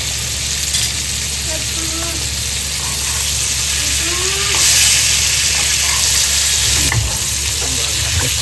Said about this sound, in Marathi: इकडे किरकिर पण चालू आहे.